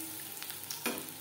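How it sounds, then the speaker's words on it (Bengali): Jute leaf fritters fry in oil over a medium flame, a soft, steady sizzle with a few small crackles and a brief spatter near the end. "বড়া ভাজবো মিডিয়াম ফ্লেমে।"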